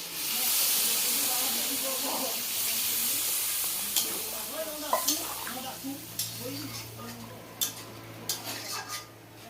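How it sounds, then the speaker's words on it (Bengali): Warm water poured into a hot pan of rohu fish curry sets off a loud, steady hiss that fades over several seconds, followed by a few clinks of a utensil against the pot. "হালকা গরম জল আছে, দিচ্ছি।"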